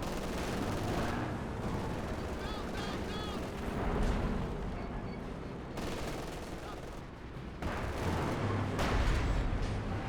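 Heavy artillery fire from Soviet B4 howitzers in a Company of Heroes 2 battle, repeated loud booming blasts and gunfire crackle layered over a dense battlefield din, with a commentator talking throughout.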